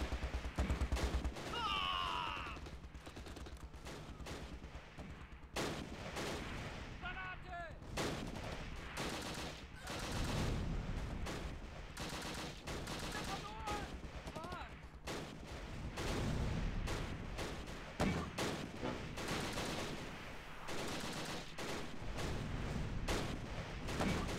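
Mortar rounds and explosions from the war strategy game Close Combat Last Stand Arnhem: dense, continuous bursts of gunfire and booming blasts crowd together loudly from start to finish, with no clear speech.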